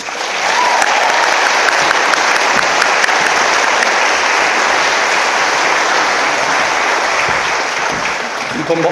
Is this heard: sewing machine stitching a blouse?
no